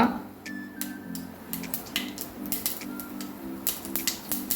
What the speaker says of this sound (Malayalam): വെളിച്ചെണ്ണ ചൂടായിട്ടുണ്ട് നമുക്ക് കടുക് ഇട്ട് കൊടുക്കാം